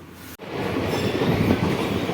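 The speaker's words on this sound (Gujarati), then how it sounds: "તો આવી ગઈ છે આપણી ટ્રેન સૌરાષ્ટ્ર એક્સપ્રેસ" The Saurashtra Express passenger train rolls in with a loud, steady rumble and faint rhythmic clatter of wheels, close by, after a brief moment of quiet.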